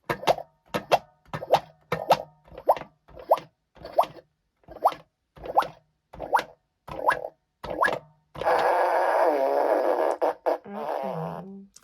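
A squeezed rubber poop toy lets out about a dozen quick, evenly spaced squelchy plops, then one long, loud, drawn-out farting blare.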